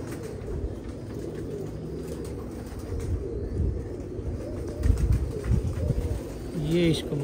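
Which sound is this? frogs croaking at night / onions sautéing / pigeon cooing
pigeon cooing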